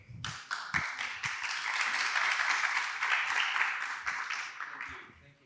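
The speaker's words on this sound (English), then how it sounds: "A big round of applause for Erinch Sahan." An audience at a conference on the prosumer economy applauds speaker Erinch Sahan, a broad wash of clapping that swells and holds for several seconds, with a few voices and taps at the start and end.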